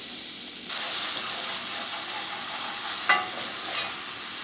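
Honey, soy sauce and green onions sizzle steadily in a hot pan as a salmon glaze, with a constant hiss and a brief clatter of stirring near the end.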